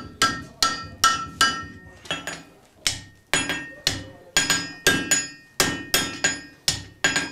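Hammer blows forging hot iron in an open-air museum blacksmith shop ring out in a quick, steady series, each sharp metallic strike close and loud with a short ringing tail.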